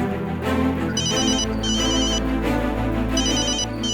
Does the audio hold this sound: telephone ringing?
yes